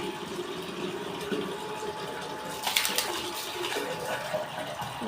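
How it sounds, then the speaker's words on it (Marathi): Water running into a metal kalshi pot, a steady rushing fill with a brief brighter splash midway, heard alone without talk. "बस भरली कळशी बर बर भरा टाकी भरा पूर्ण भरा"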